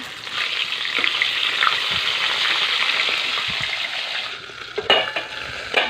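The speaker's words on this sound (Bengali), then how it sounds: "মাছটা এক পাশ ভাজা হয়ে গেছে, এবার উল্টে দেবো" Katla fish head sizzling in hot oil in a pan, a continuous loud frying crackle with a few soft clinks and bumps as the piece is turned over near the end.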